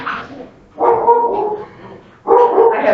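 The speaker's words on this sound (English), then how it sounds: "My dogs are going crazy." Several dogs barking excitedly in bursts, loud and close, with a brief pause between a first outburst and a second, all breaking into a home yoga session on a winter day.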